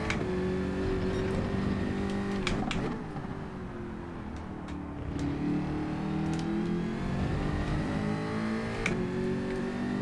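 Group 3 race car engine at Interlagos in Gran Turismo 7, a sustained mid-pitched drone with shifting revs and a brief dip before climbing again, loud and continuous with no voices.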